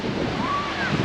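Ocean surf rolls in at Canasvieiras beach in Brazil on a cloudy day with plenty of waves, a loud, continuous wash blended with wind buffeting the microphone.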